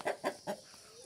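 Laying hens in a flock of fourteen give three quick, soft clucks in a row, fairly close and quiet.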